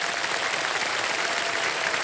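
Steady applause from a studio audience at a Hindi quiz game show, dense clapping filling the room evenly from start to finish with no voices over it.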